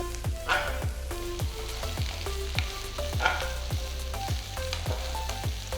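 Chopped okra for boondi fry sizzles steadily in a hot pan over medium flame while a utensil scrapes and stirs in a repeated rhythm, with no voices.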